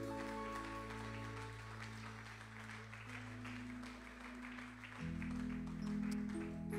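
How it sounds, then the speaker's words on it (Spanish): A church congregation claps in thanks during a Sunday worship service, steady applause spread across the room with sustained organ or keyboard chords underneath that swell louder partway through. "Le damos aplausos de agradecimiento al Señor."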